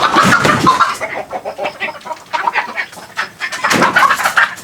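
Native chickens cluck and squawk nearby in irregular bursts, several birds overlapping, fairly loud with brief lulls between calls.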